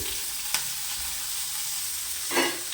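Curry leaves and green chillies fry in hot oil, giving a soft continuous sizzle with two short spatters as they hit the pan and are stirred.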